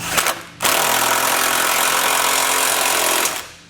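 A power tool drives a 3/4 inch socket to tighten bolts on a Curt trailer hitch receiver fitted to a 2018 Chevrolet. A short blip comes first, then one loud, rattling burst lasts nearly three seconds before stopping.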